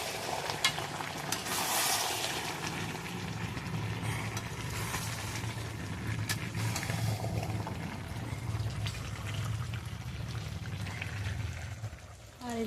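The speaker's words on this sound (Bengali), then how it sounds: "এখন মাংসটা এখনও কষছে।" Meat being slowly sautéed in a pot on a clay stove gives a steady low sizzle and bubbling hiss throughout, with faint scraping and clatter on top and no talk.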